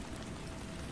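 Steady rain falls as a dense, even wash of patter, close and continuous throughout with no voices, the soft hiss of drops on a surface filling the whole short stretch.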